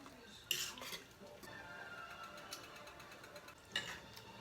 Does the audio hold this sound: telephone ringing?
no